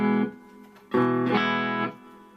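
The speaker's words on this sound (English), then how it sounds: "Here's a spring reverb, supposedly." Electric guitar through a budget pedal's spring reverb setting, on an inexpensive amp rig: a short strum, a pause, then two louder sustained chords that ring and decay with a slightly splashy tail.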